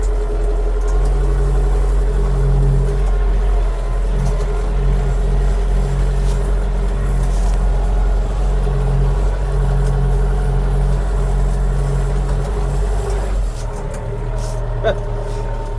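A Skaut 404 tractor pulls a Unia Grudziądz plough through heavy clay soil, its engine droning steadily and close with a low, even hum that shifts slightly near the end, while someone talks over it.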